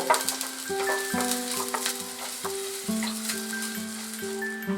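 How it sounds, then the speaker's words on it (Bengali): Chopped onion frying on a medium flame for a spicy momo chutney, a steady close sizzle with light stirring and scraping running throughout, no voices. "আর দিয়ে দেব 1 টেবিলস্পুন পরিমাণ পেঁয়াজ কুচি। এটাকে আমি মিডিয়াম ফ্লেমে 30 সেকেন্ড মতো"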